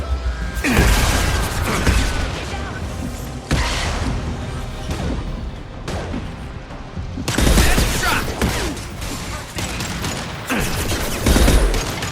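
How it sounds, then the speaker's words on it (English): Heavy gunfire in a Mass Effect battle: loud bursts of automatic fire and impacts come in waves, with brief lulls between volleys and heavy booms underneath. "Taking heavy fire."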